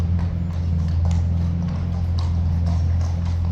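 Hooves of King's Guard horses at Horse Guards clip-clopping in steady, close steps, set against a constant low hum and ambient noise, with no talking.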